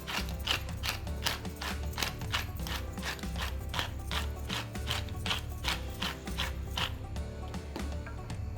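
A pepper grinder cranks freshly ground black pepper over tomato sauce for baked ziti, a close, rhythmic series of dry ratcheting crunches repeating steadily for several seconds with no talking.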